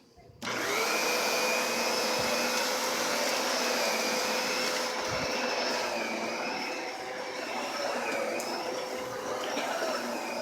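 Kenmore 600 Series Pop-N-Go canister vacuum cleaner running steadily, a loud, continuous whining motor drone with a high tonal whistle, starting abruptly and holding nearly constant with a slight dip midway.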